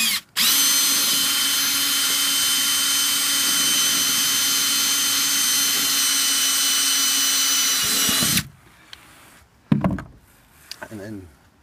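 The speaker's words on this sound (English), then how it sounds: "make sure you go straight in with your drill." A power drill whines loudly and steadily for about eight seconds boring into a plastic poly dock, then stops, followed by a few quieter clicks and handling sounds.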